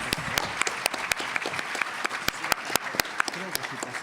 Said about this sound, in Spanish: Un aplauso para Muchas gracias